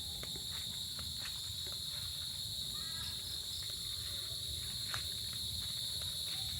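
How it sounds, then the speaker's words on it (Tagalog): Crickets chirp steadily on a small farm at dusk, a dense, continuous high-pitched trill that stays even throughout, with soft rustling and low background noise underneath. "Yan, nanguhuli na yung mga kuliglig."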